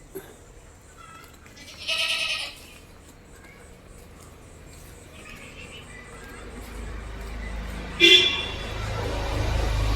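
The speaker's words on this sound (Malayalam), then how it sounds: "കുട്ടികളെ പിരിച്ചൊരു പാലുള്ള ആട്" A dairy goat bleats twice, a few seconds apart, over a quiet outdoor background in Vengara, Kerala, with a low rumble building toward the end.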